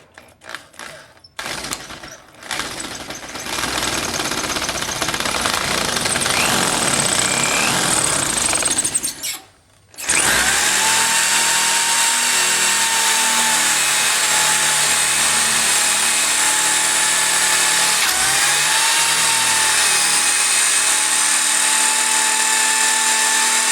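A power drill with a larger bit enlarges a hole in an interchangeable core lock: a steady loud whine and grind running continuously, briefly stopping and restarting, then holding for a long stretch.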